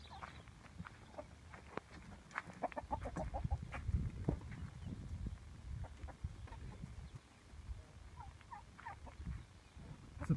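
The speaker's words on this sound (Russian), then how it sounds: "Цыплятки." Small young chickens, mostly cockerels, call and cheep in a farmyard poultry flock, with frequent overlapping peeps and clucks, some rooster-like calls, and busy scratching and rustling underneath throughout.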